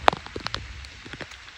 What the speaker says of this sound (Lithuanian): Bet gražiai lyja, labai taip lygiai.